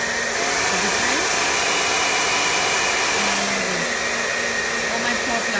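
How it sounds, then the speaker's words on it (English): A Philips hair dryer runs at medium heat, giving a steady, loud airflow whine that holds evenly for the whole stretch, with no talking over it. "So here you go, the Philips hairdryer."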